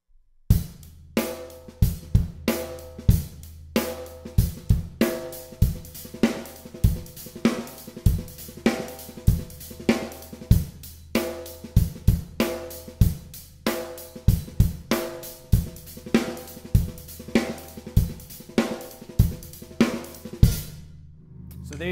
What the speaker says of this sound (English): now I'm gonna add that fill in there.